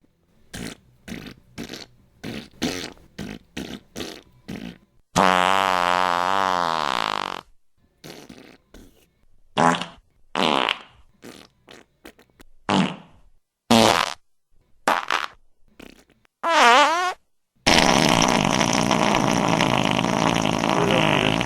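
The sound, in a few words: farts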